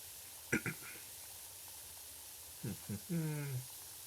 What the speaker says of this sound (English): just so I get a bit of a water spray because it's pretty close